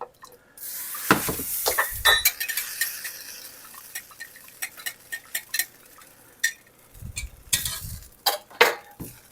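Warm liquid being poured into eggs in a bowl and mixed, with repeated clinking and scraping of a utensil against the bowl, irregular and close, with a few short pauses.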